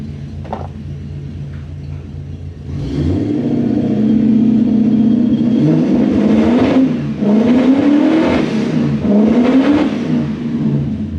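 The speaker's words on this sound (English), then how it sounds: "turn the key on and start it" A Toyota Celsior / Lexus LS400 engine cranks and fires after a quiet start, then settles into a steady idle with a couple of rising revs from light throttle, close and loud with no talking.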